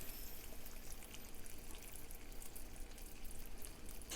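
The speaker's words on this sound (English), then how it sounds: "and I'll add the remaining 1/2 cup of corn syrup into the mixture" Half a cup of corn syrup is poured into a hot marshmallow mixture, a faint, steady liquid trickle and pour heard alone and up close.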